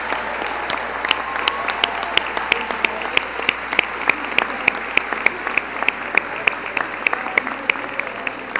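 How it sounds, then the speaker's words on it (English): Audience applause at a medical school white coat ceremony, a steady, even wash of clapping from a large seated crowd, with sharp individual claps standing out regularly throughout. "a round of applause"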